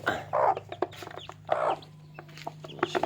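An agitated mother hen with newly hatched chicks gives harsh bursts of clucking, close by, with scattered pecks and shuffling between the calls.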